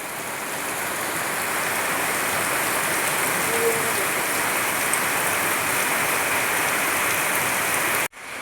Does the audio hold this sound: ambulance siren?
no